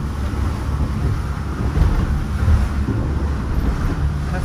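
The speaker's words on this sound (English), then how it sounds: "the water just churns like this" Ocean water churns around a boat off Freeport, Bahamas, over water about seven feet deep, as a steady, loud rush of waves and wind noise with no talking.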